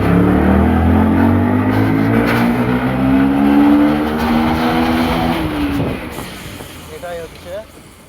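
An ordinary motorcycle revs hard in a narrow village alley in Jalangi, Murshidabad, its engine note climbing loudly and close before fading as it moves off.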